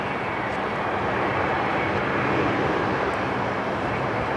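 A Finnair airliner begins its takeoff roll on a runway at Sydney Airport, its jet engines a loud, steady broadband roar that holds constant across the whole stretch.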